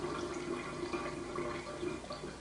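Water from an AlkaViva Vesta water ionizer runs steadily into a glass as an acidic sample is drawn, a continuous close trickling and splashing with no speech.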